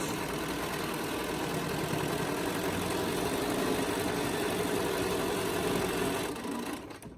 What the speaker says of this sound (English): I'm just sewing right along the edge.